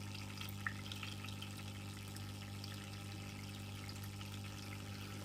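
A small Ganesh tabletop water fountain recirculates its water. The result is a faint, steady trickle with a constant low pump hum and no voices.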